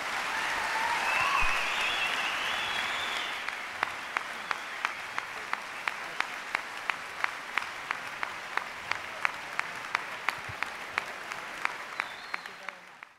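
An auditorium audience at a Veritas Forum lecture at Montana State applauds, starting as a full wash of clapping that thins into a few sparse, distinct claps before fading out.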